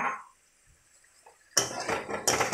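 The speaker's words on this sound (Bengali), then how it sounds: "এবার আমরা ভেজে রাখা আলুগুলো এর মধ্যে দিয়ে দেব" Fried potatoes tumble into sizzling masala in a pan for Bengali chanar dalna, a sudden loud burst of frying and clatter after a quiet moment, swelling again near the end.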